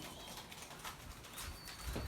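Caged pet birds in a room make faint coos and rustles, with a brief flutter of wings against a steady, soft background hum.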